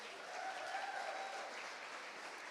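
Steady applause from a gala audience clapping for the parents at a kidney kids charity anniversary event, a dense, even wash of hands that holds at moderate volume throughout without voices.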